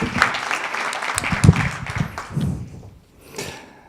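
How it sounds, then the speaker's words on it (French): Applause from an audience at a French business talk, a short burst of clapping mixed with thuds and low murmur that fades out partway through, then picks up faintly again near the end. "On peut l'applaudir d'ailleurs"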